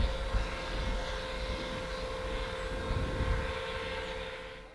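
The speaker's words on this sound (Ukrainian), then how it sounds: "чуємо, як над нами кружляє ще один російський дрон" A Russian military drone circles overhead near Ukrainian tank crew positions, a steady droning engine hum that holds at even loudness throughout, with no voices.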